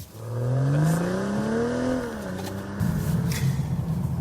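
A 2022 BMW 2 Series Coupe with an automatic gearbox pulls away, its engine note rising smoothly through the revs before settling back, followed by louder tyre and road roar with no talking.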